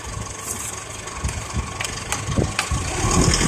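An automatic pickup truck's engine idles and is revved with the accelerator, a moderate rumble that builds toward the end, with scattered knocks and rattles inside the cab.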